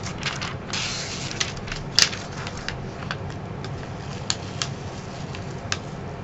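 Adhesive tape peeled slowly off a sheet of paper, close and crackly, with a run of small ticks and pops and one sharper snap partway through, heard on its own.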